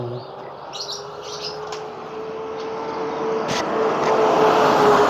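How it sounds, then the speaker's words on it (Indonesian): Several caged birds chirp in short high bursts, fairly faint, over a steady, growing rumble of road traffic. "Perjalanan pulang ini burungnya banyak sangat."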